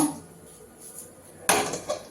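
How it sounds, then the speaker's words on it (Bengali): A single metallic clunk of a wok being set down on a stove, close and sharp, after a quiet stretch. "এখন আমি কড়াইটা বসিয়ে দিব আলু ভাজার জন্য।"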